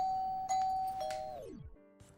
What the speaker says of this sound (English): When around 6:01 am, housemate Bharti rang the doorbell.